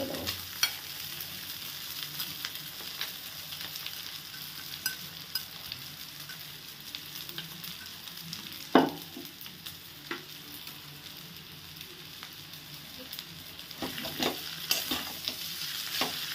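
Boiled chowmein noodles stir-fry in a hot pan, a continuous crackling sizzle broken by scattered scrapes and clacks of a utensil tossing them, close and with no talk.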